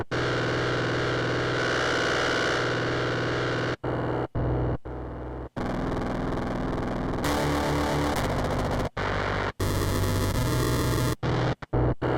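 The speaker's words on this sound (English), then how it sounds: "I'm gonna scroll through all these different distortion units and see which one works" A synth tone in Reason 6.5 is switched through a series of distortion units, each one a loud, harsh, buzzing variation. Abrupt cuts and short silences separate the settings.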